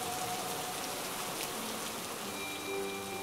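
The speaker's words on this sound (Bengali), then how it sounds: "এমন সময় আচমকা বৃষ্টির গতি বাড়ল।" Heavy rain pours steadily outdoors, a dense continuous hiss of drops striking surfaces throughout, loud and close with no voices.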